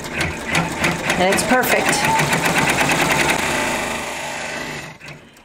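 Embroidery machine stitching an appliqué tack-down on fabric, a fast, steady rhythmic needle chatter running for several seconds close by, while a person talks over it.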